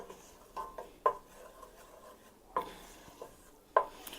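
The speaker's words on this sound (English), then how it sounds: "You just continue to stir while it's darkening." A spoon stirring a darkening roux in a pot for shrimp étouffée: soft, sparse scrapes and light clinks against the metal, a few sharper taps spaced irregularly over quiet cooking background.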